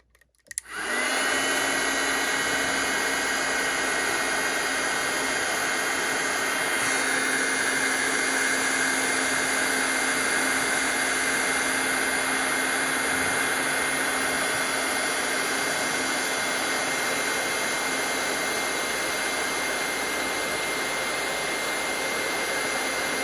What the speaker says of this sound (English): I'm just going to bring up my heat tool and heat this up.